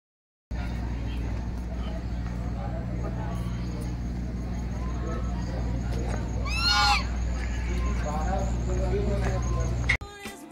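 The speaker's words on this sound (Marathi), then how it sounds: "इथे बदक खूप आहे" A few honking duck calls break through a steady low engine hum and a murmur of crowd noise at a picnic spot near Nagpur, loudest briefly near the middle.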